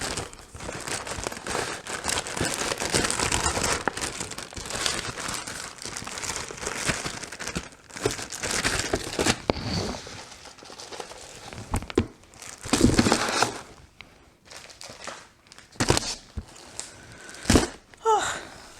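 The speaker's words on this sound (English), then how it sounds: "you're gonna get all the crinkling" Plastic wrapping on cross stitch kits crinkles and crackles up close in irregular bursts, continuous at first and then in louder scattered handling noises.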